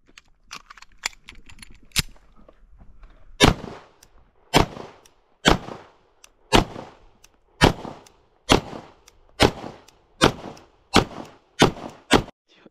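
Gunshots from an ABC Rifle Company micro AR pistol with a 5 inch upper, fired outdoors: about ten sharp, loud reports in a steady, evenly spaced string, with a few quieter knocks and handling sounds before the firing begins.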